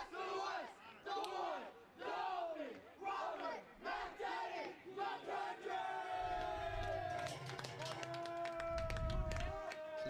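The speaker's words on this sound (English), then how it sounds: "you can hear the cheer and chant of the Paris team as their, I guess, favorite player comes up to bat" Paris team supporters at a 2013 ISST Division 2 school baseball game chant in rhythmic bursts, then break into cheering and clapping as a favorite player steps up to bat, loud and crowd-heavy with some voices close by.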